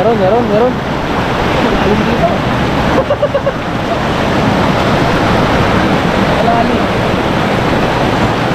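Water pours and rushes loudly and steadily at a deep spot under a tree while people fish for fish in a hole, with a voice heard briefly near the start.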